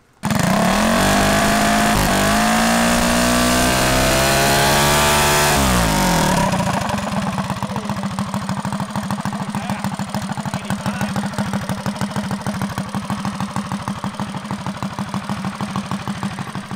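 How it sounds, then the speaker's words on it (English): A Predator 212 small single-cylinder engine, built for over 20 horsepower, revs loudly with rising and falling pitch for several seconds, then drops into a steady, loud, rapid idle that continues alone without talk. "we gave it a little bit of revving so you guys can see what this thing sounds like"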